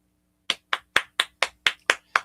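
One person claps by hand eight times in a steady, even rhythm, each clap sharp and close, after half a second of silence, with no voices.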